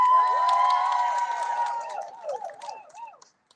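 A crowd at a language access celebration rally cheers and whoops loudly, sustained voiced shouts that waver and rise, then break into scattered calls before fading out.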